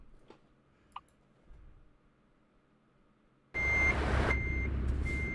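Reversing beeps sound from a truck in American Truck Simulator: a few quiet clicks first, then a loud engine rumble starts with evenly spaced electronic beeps repeating over it.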